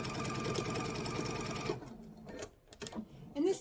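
Sewing machine stitching a mug rug, a fast steady mechanical whirring with rapid needle rhythm that runs loudly, then stops, leaving quiet handling sounds and small clicks.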